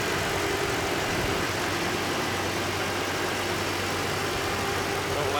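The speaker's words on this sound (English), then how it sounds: "it's a very, very smooth running engine" A 2015 Toyota Sequoia Limited engine runs smoothly at a steady idle, with a constant low hum and broadband noise and no voices.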